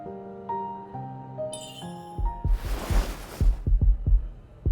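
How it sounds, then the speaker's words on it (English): Heartbeats heard through headphones in the video game Love and Deepspace, a deep, loud double-thump pulse repeating steadily after soft synth tones and a burst of noise. "Now we're hearing our heartbeats."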